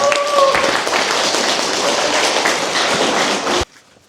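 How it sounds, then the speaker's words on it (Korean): An audience claps in welcome for a priest about to give a lecture, a dense, steady burst of applause lasting several seconds before cutting off abruptly. "큰 박수로 환영하겠습니다"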